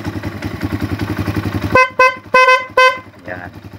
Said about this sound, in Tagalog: ito yung busina niya, yung tunog.